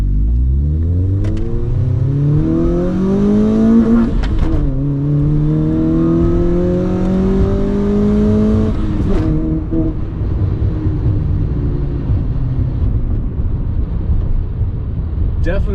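A Honda Fit fitted with Hybrid Racing shifter cables revs and accelerates through the gears, its engine note rising in loud sweeping pulls with brief drops at each shift, then settling to a lower cruising drone.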